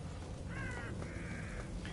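Crows cawing in the horror video game The Evil Within, a few drawn-out harsh caws rising over a steady low ambient rumble, moderately loud and without speech.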